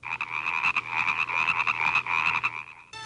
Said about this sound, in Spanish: La rana y el sapo croan.